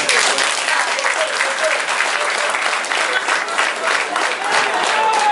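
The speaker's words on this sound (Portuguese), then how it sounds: "Palmas para este grupo teatral" Audience applause for a theatre group after a malaria-control drama, loud dense clapping that carries on evenly throughout with a few faint voices mixed in.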